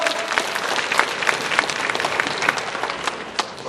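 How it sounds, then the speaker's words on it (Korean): Steady applause from a church congregation, a dense wash of clapping that holds at an even level throughout. "우리 주님께 다시 한번 영광의 박수 뜨겁게 한번 돌려드립시다"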